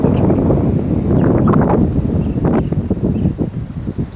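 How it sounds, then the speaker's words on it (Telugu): Steady cool wind gusting at Reis Magos Fort above a Goa beach, rumbling close against the microphone throughout, with faint talking mixed in. "ఇక్కడ నుంచి గాలి తగులుతుంటే ఎంతో హాయిగా ఉంది, చల్లటి గాలి"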